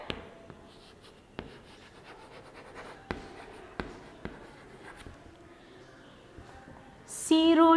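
Pen or chalk taps and scratches out numbers in a quiet classroom, with a few sharp strokes at irregular intervals, faint and close, before a louder voice-like burst at the end.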